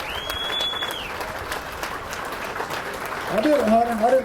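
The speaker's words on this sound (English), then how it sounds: "How about one more big round of applause for Hunter Baughman?" A crowd at a bass fishing tournament weigh-in at Truman Lake claps for the winner. Steady applause runs throughout with a few whistles and cheers, and voices mix in underneath.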